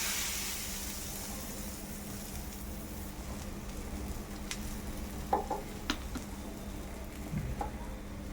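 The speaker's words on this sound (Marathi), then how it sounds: "शेवटचं थालपीठ आपल्याला तव्यावर टाकून घ्यायचं आहे" Thalipeeth, a flatbread, fries in oil on a tava with a soft continuous sizzle and a few light crackles and taps, heard quietly and fairly close.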